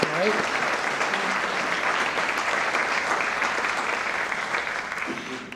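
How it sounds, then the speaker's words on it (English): An audience applauds steadily at a United Way awards event, a dense, continuous clapping that holds at full strength for several seconds before a voice briefly cuts in near the end. "how about a little round of applause for those who helped us put it on"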